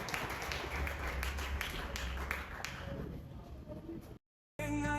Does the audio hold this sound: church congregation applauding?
yes